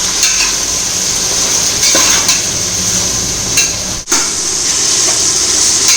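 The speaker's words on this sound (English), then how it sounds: "you can add tomatoes, let it fry for some time." Tomatoes fry in a pan for brinjal rice with a loud, continuous sizzle, broken by a few utensil scrapes and taps against the pan and one brief dip near the end.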